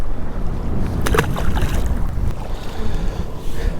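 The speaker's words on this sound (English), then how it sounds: "The wind is ridiculous." Strong wind buffets a fishing boat out on a lake in Sawyer County, a steady loud roar with gusty microphone rumble and splashing water that runs through the whole stretch with no talking.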